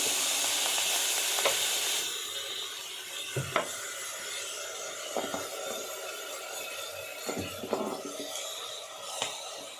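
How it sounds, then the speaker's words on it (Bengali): Grated coconut cooks down with jaggery in a pan, a soft sizzle and hiss broken by several distinct scraping stirs of a spatula, close and fairly quiet, with no talking. "আমি নারকেলটা গুড় দিয়ে একটু জ্বালিয়ে নেব"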